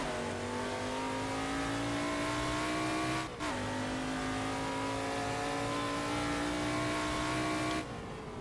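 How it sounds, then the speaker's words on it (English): A Camaro Trans Am race car engine in the Assetto Corsa game at Winton revs high and steady, rising in pitch, dipping briefly for a gear shift, then climbing again before a sharp drop, loud and close with no talk. "Try and get the engine revs matched up for the big shift back to first."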